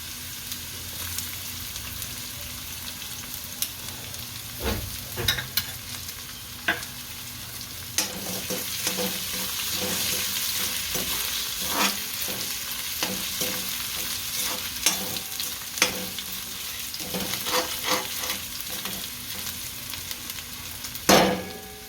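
Ginger fries in hot oil for veg Hakka noodles, a continuous close sizzle broken by regular scraping and tapping of a spatula stirring the pan, with no voices.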